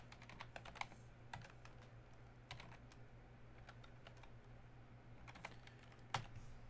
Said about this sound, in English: Where am I typing? Typing into nothing.